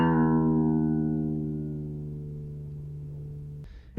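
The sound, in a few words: string pitch dropping as tension loosens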